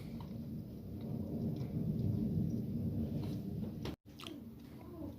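A thunderstorm rumbles outside a house with steady rain and low rolling thunder throughout, heard from an upstairs room, broad and continuous with a brief dropout near the end.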